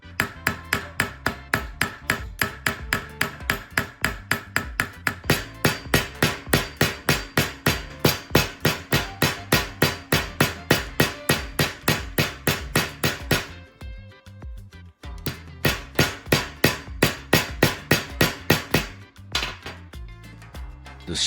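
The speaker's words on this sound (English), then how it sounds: "Next, I place the handle on a solid surface and hammer the pins hard." Steady, loud hammer blows drive metal pins into a handle made from old tires resting on a solid surface, striking in a fast even rhythm with a short pause midway before the pounding resumes.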